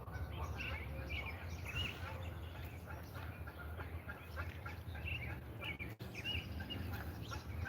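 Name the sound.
small birds chirping outdoors near cranes and ducks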